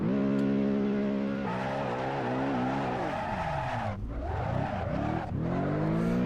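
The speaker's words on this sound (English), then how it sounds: "There's a power slide. Kind of a drift." A car drifts in the Assetto Corsa racing game, its engine revving through gear changes before the tires break into a long, wavering squeal as it slides, loud and close, no talking.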